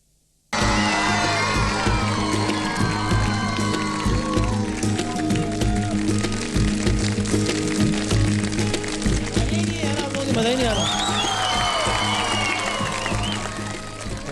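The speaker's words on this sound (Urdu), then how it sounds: "تالیاں بہت ضروری ہیں آپ لوگوں کی، اس کے بغیر ہم لوگوں کو انرجی نہیں ملتی" A studio audience at a Ramadan night television broadcast breaks into sustained applause and cheering, dense and steady after a brief silent start, with voices mixed in.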